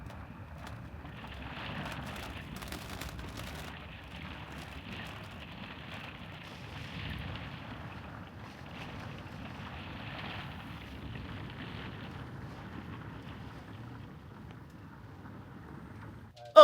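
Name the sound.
strong wind in a storm around a parked RV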